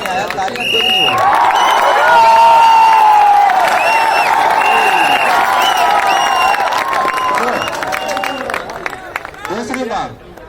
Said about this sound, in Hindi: मजा नहीं आया, तालियां देखनी होगी।